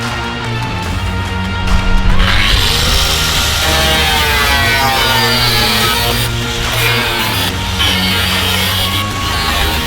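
Metal body panel of a van with a pop-top being cut open, a loud continuous harsh grinding whine that holds steady for the whole stretch, with slight surges in pitch, no talking.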